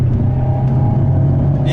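Alpine A110 S sports car accelerating hard, its engine drone steady and loud with a few faint exhaust crackles popping near the end.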